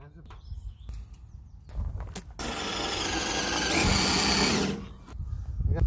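A power drill whirs for a few seconds, drilling rivet holes in fiberglass on a boat, rising and holding steady before stopping, with scattered knocks and quiet voices around it.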